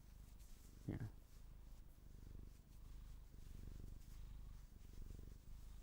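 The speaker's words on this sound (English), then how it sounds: "Can you guys hear her purring?" A female cat purrs in a soft, continuous rumble close by, a brief meow-like squeak near the start, with quiet talking over the purring.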